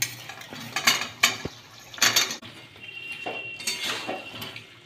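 Fried potatoes dropped into cooked spice paste in a pan, bringing clanks and scrapes of a spoon against metal, a few sharp knocks and a light sizzle, close up.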